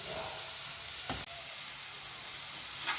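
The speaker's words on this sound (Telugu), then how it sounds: "చక్కగా ఇలా వేయించుకుందాం. ఒక 1-2 మినిట్స్ ఇలా వేగనిద్దాం." Vegetables for egg fried rice fry in a pan with a loud, steady, close sizzle, broken once by a short stirring knock; no voices are heard.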